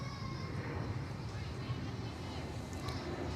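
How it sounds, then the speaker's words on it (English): Military planes pass overhead near Barksdale Air Force Base during a youth baseball game, a faint, steady low rumble of aircraft engines drifting across the field behind distant ambient noise. "hear those planes flying over as we are next to the Barksdale's Air Force Base"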